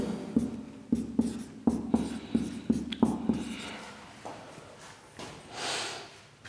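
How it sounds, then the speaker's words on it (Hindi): Pen strokes scratching out numbers by hand on paper, a run of short, evenly spaced scribbles followed by a few slower strokes, close and clear with no talking. "चलिए नंबर लिख दें।"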